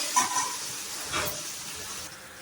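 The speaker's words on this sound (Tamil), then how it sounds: "இஞ்சி பூண்டு நல்லா வதங்கிடுச்சு" Ginger garlic paste with mustard seeds, garlic cloves and curry leaves sizzles in a hot pan, a bright continuous frying hiss that swells briefly midway, with no talking.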